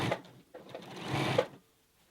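A home sewing machine runs in two bursts as it stitches a knit neckband onto a raglan T-shirt, its fast mechanical whir fairly close and clear, then stopping into quiet.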